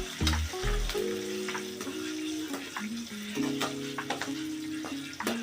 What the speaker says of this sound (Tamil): கடுகு, கடலைப்பருப்பு, காஞ்ச மிளகா, கருவேப்பிலை அப்படின்னு போட்டு நல்லா வதக்கிக்கலாம்.